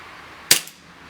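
A single sharp pop from a Cybergun KWC Tanfoglio Witness 1911 CO2 BB pistol fired through a chronograph: one loud, close crack with a short hissing tail, alone with no voices.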